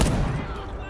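A single loud, booming gunshot in the video game Deathloop that rings out and decays over a second, close and heavy.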